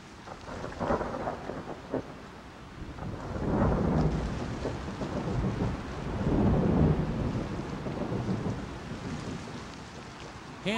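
Violent afternoon thunderstorm over prairie grassland: heavy rolling thunder swells twice amid steady rain, with no voices.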